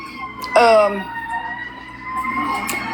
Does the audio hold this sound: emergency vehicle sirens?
yes